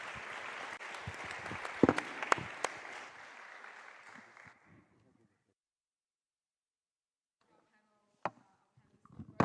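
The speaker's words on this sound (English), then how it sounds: "Please let's give them a round of applause." Conference audience at a global summit applauding a panel, a full wash of clapping for about four seconds that fades out into silence, followed by a few scattered knocks.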